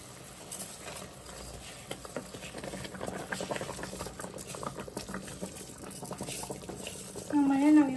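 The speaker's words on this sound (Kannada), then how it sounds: "ಸೊ ಕುದೀತಾ ಐತೆ, ಈಗ ಅಕ್ಕಿ ಹಾಕ್ತಾ ಇದ್ದೀನಿ" Steady bubbling of water boiling in a pot as rice is poured in, a continuous close simmering patter with a louder burst near the end.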